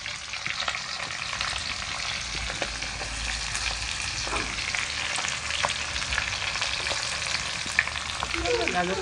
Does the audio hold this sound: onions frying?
yes